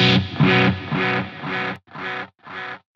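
A Gibson Les Paul electric guitar plays distorted, rhythmic chopped chords through reverb and delay effects, loud and up close, with sharp gaps between the later stabs.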